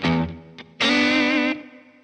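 An electric guitar plays through a BOSS WAZA Tube Amp Expander with added reverb, giving a Vox-like amp tone. A few short plucked notes lead into a loud, sustained overdriven chord that rings out and fades.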